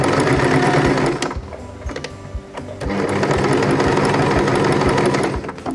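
Close up, a sewing machine fitted with a Teflon presser foot stitches plasticized fabric in a steady fast whir, with a brief slowdown midway before it resumes at full speed.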